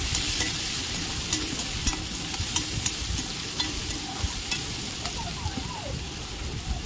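Chopped onions stirred while frying in a pan, a steady sizzle with light scraping strokes running throughout at close range, no talking.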